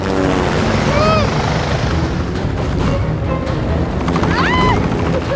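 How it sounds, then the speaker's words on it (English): Military helicopter rotors thud steadily and loudly as the aircraft draws near, kicking up a sandstorm, with wind-like rumble and a voice speaking beneath the noise. "seeing these helicopters come in"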